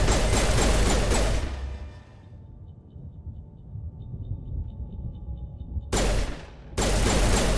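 Video game gunfire while shooting an enemy: a loud rapid burst of shots at the start, a quieter stretch with faint tones, then two more loud bursts close together near the end.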